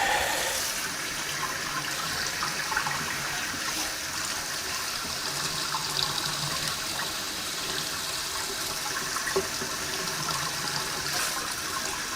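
Steady gush of tap water running continuously at close range while water is drawn for an ice bath, a constant hiss with no talking.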